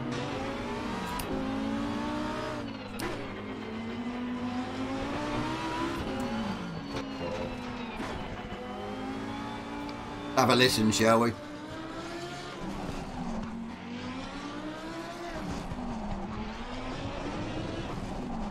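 Engine of a Lamborghini-badged Audi race car in a racing video game on Xbox Series X, revving and shifting through rising and falling pitch sweeps with a brief tire squeal midway, played loud under someone talking throughout.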